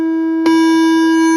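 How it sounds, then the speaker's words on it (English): A harsh, buzzy square-wave tone from a signal generator sounds continuously, loud and steady, with a brief click as it shifts partway through. "and a square wave, which sounds like this."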